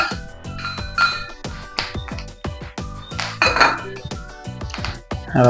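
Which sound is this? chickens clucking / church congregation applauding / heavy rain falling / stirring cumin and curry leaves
stirring cumin and curry leaves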